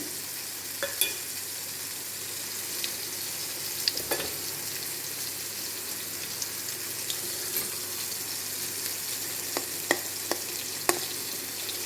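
Chili frying with garlic in a pan gives a soft, steady sizzle, with occasional light clicks and scrapes of stirring against the pan, faint and close.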